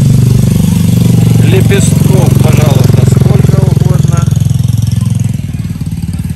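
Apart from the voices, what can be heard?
motorcycle engines idling at a Bali market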